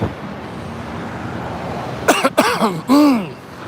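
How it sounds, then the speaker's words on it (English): A few close, harsh coughs in quick succession, with a throaty voiced sound, after a quiet stretch of low background noise. "Sorry about coughing in your ear."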